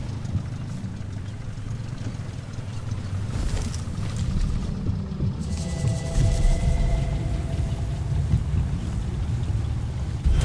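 A gunboat in the video game Sniper Elite 4 passes close by with a steady low engine rumble that swells slightly louder midway, carrying on without any voices.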